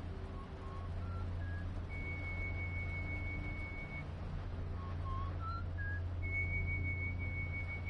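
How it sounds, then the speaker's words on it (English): Eerie, tin-whistle-like whistling in the VR horror game Intruders: Hide and Seek. The sustained pitched tones rise and fall, coming in several separate phrases over a steady low background hum. "That's like a tin whistle or something."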